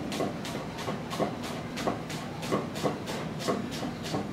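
A Shan Zu Gyo Damascus chef knife chopping a shallot, with about a dozen quick, evenly spaced cuts landing on the board in a steady rhythm, close and moderately quiet.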